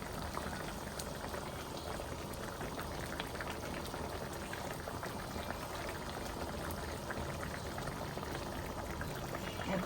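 A pot of traditional curry with tomatoes simmers steadily, a dense, even bubbling and soft crackle of boiling liquid that stays constant and fairly close throughout.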